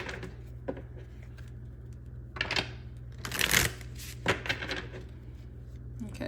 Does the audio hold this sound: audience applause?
no